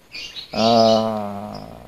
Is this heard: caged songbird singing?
yes